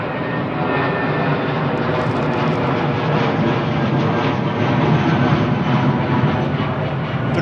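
A jet airliner at Heathrow Airport roars with broadband engine exhaust and combustion noise, a loud steady rushing blast sustained throughout without speech.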